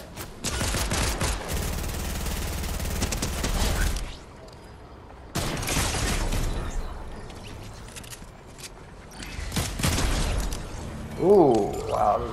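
Gunfire in the Fortnite video game: dense bursts of rapid shots crackle for several seconds, pause, then return in two more loud volleys with a brief voice-like sound near the end.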